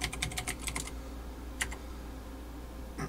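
Quick bursts of keystrokes on a computer keyboard entering a chat command in World of Warcraft, a rapid cluster at the start, a short pair midway and one last click at the end, clear and close over faint room hum.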